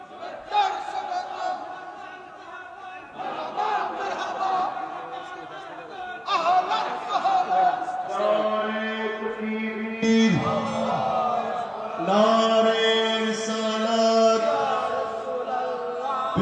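A crowd at a religious rally on a madrasa field chants slogans in amplified, reverberant unison, the voices rising and falling in repeated phrases over a continuous loud wash of massed sound.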